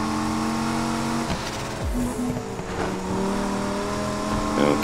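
A 400-class performance car's engine roars steadily during a police chase in the Need for Speed Heat video game, holding a loud sustained drone with shifting pitch and brief swoops as it races.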